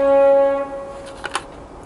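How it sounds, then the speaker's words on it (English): A train horn blows a sustained, chord-like blast that is loud at first and cuts off within about a second, followed by a couple of faint clicks and rustles of handling. "Excuse the train horn then."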